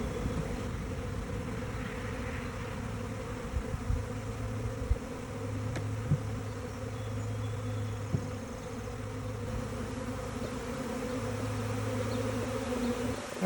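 Outdoors by a tree, a honeybee swarm gives off a continuous mass buzz that stays steady and fairly close, with a low droning hum and a few faint knocks and no voices.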